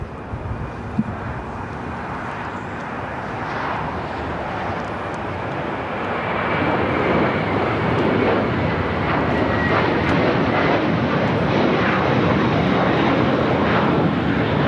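An American Airlines jet takes off at LAX, its engines building from a steady roar to a louder, sustained broadband rumble that fills the whole stretch without any voices.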